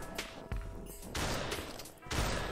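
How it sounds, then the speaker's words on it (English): Gunshots in a Santa video game, fired at a snowman: a handful of sharp, loud blasts at irregular intervals, each with a short decaying tail, heard alone with no talking. "I guess I gotta go shoot in some snowman"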